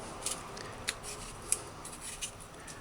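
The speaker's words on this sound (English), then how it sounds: "Dice it fine because you want it to break out in there." Knife dicing half a small peeled turnip on a cutting board for a brown pork stew, giving a few sharp, irregular chopping clicks over a steady background hiss, close and fairly quiet.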